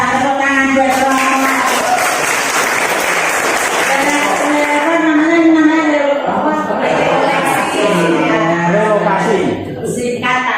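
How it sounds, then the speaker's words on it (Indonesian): Congregation at a parish retreat applauds for a priest, steady dense clapping that runs for about ten seconds, blended with voices and harmonic singing or music throughout. "Tepuk tangan buat Romo."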